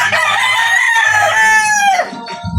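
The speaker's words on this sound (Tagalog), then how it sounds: "Bago pa lang siya nagtitilawak mga kamanok." A young gamefowl rooster of a sweater-type line crows once, loud and close, a drawn-out strained call that falls in pitch and breaks off, followed by a short low cluck.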